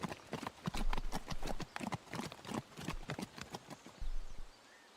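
Horse hooves clip-clopping on a ride into a forest, a steady rhythmic trotting of close, crisp hoofbeats with faint low thumps, fading slightly toward the end.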